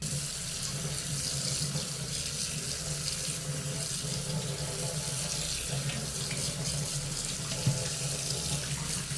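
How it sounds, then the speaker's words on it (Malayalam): Tap water pours steadily and loudly into a sink for the whole stretch as stinging nettle leaves are washed, with faint handling sounds and no talk. "നന്നായിട്ട് കഴുകി എടുത്തിട്ടുണ്ട്"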